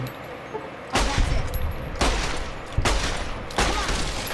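Four sharp booming gunshots from an inaccurate gun in the modded game Fallout New Vegas, spaced about a second apart, each with a crackling decay over low background noise.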